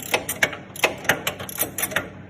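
A ratchet with a short socket turns a bolt on a 1971 Project 110 build, giving close, sharp clicks in uneven bursts of one or two, with no talk.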